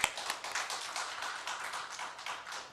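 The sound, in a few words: congregation clapping in church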